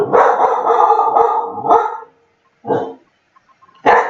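A dog named Star barks loudly in a quick run of several barks, then a few separate barks after short pauses, heard up close in a home.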